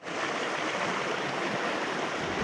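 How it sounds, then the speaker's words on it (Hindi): A village river of open water rushes steadily over stones, a continuous close broadband wash with no voices over it. "वहाँ नदी में खुला पानी है"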